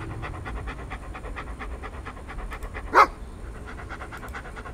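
A dog in the video game Hobo Tough Life pants steadily in quick rhythmic breaths, close and clear, with a single louder huff near the middle.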